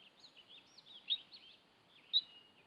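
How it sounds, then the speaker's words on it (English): A mother California mountain lion chirps to call her kittens, a faint series of high, whistling chirps in an irregular run, with two slightly louder peaks, otherwise quiet. "A mother makes chirping sounds to collect her wandering offspring."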